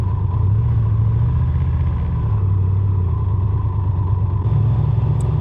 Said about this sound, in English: So, we're still stuck in traffic.